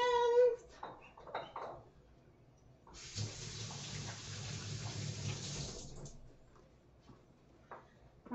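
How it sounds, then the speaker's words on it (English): A tap runs steadily for about three seconds as hands are washed beneath it, a broad rushing stream that starts and stops abruptly, with quiet room sounds and faint clatter before and after. "I'm gonna wash hands"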